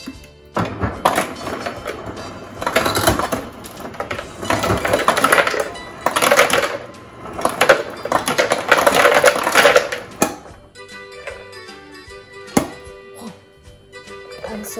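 An ice machine drops ice into a blender, a run of clattering thunks and rattling cubes that stops partway, followed by a few scattered knocks.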